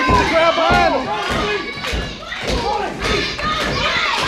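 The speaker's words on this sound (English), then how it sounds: "And listen to the VCA faithful. Rally behind Dwayne White." A wrestling crowd at an indie event roars and chants in support of a wrestler, dense and loud throughout, with thuds and shouted voices mixed into the noise.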